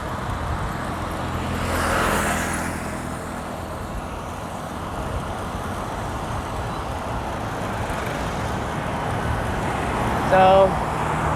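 Cars and big trucks pass on a national highway in a continuous roadway roar, with one vehicle swelling loudest as it goes by and a short horn-like tone near the end, while someone talks over the traffic.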